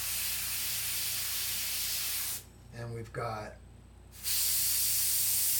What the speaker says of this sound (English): I could spray the black over the brown again to kind of darken my brown